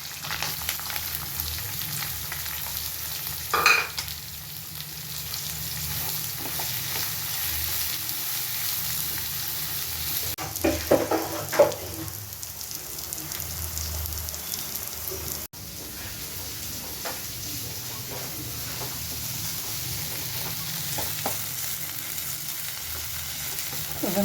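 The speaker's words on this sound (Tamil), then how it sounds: "வெங்காயம் கொஞ்சம் ஒரு கோல்டன் ப்ரௌன் கலர் ஆகிற அளவுக்கு வதங்கிருச்சு." Onion and garlic fry in a pan for a prawn thokku, with a continuous close sizzle and crackle and occasional stirring knocks and scrapes over the whole stretch, with no voices.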